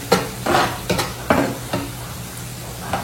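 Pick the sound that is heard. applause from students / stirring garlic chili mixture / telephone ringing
stirring garlic chili mixture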